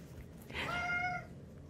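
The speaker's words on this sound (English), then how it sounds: "Just playing up the cuteness with your purr, purr, purrs in the sink, sink, sink." A black cat in a sink gives a single soft, drawn-out meow lasting about half a second, close by but fairly quiet over a low background hum.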